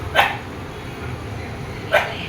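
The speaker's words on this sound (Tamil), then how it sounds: "குலைக்கிறாடா சிம்பா?" A dog indoors at home gives two short, sharp barks about two seconds apart, fairly close, with a quiet room between them.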